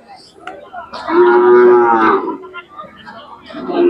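A cow gives a single loud, close moo at the Sangola cattle market, with faint market chatter and noise around it.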